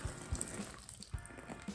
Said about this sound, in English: Water them real quick.